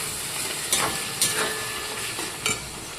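Lote fish jhuro frying and being stirred in a pan with a steady close sizzle, punctuated by several scraping stir strokes at irregular intervals.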